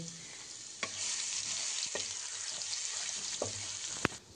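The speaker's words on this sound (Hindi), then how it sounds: "थोड़ा सा थूम डालेंगे और थूम को हम घी में अच्छे से भुनेंगे।" Garlic fries in hot ghee with a steady, bright sizzle, close up, broken by a few sharp clicks of a spoon against the pan.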